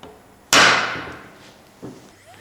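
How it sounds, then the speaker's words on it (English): A center punch is struck with a hammer against a metal part, giving one sharp, loud metallic impact with a ringing decay, then a second, lighter tap about a second later, with no talking. "Just gonna center punch these"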